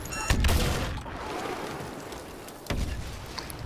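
A grenade bursts in Star Wars: Battlefront, a sharp broadband blast near the start followed by crackling debris and battle noise, then a second loud burst later, with no talk over it.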